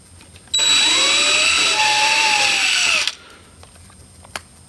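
A power drill whines steadily at close range for a few seconds, its pitch shifting slightly as it bores at low speed into a Nissan R35 GT-R's plastic front bumper, then cuts off abruptly.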